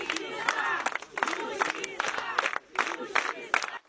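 Mourners at the funeral of a nursing technician shout in anguish and revolt, overlapping raised voices and cries in repeated bursts from a close crowd.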